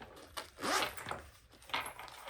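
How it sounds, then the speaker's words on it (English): The zipper on a slim Kipling bag is drawn in a few quick, rasping pulls, close and fairly quiet, each stroke a short scratchy zip separated by brief pauses. "It has a zipper here,"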